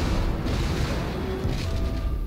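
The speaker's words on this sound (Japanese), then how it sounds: "敵艦発砲。" Enemy warship gunfire in a naval battle video game: a continuous booming, rumbling barrage of heavy cannon blasts with no clear separate shots, loud and dense throughout.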